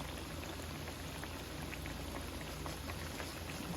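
Hot water cornbread batter frying in hot grease, a steady, faint, even sizzle with fine crackling pops that holds without a break.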